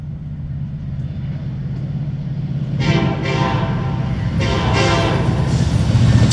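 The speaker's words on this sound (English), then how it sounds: "We've got a Metra train coming our way," A Metra commuter train rolls outbound past a rail crossing on Techney Road in Northbrook, Illinois, with a steady rumble growing closer and loud horn blasts sounding repeatedly near the end.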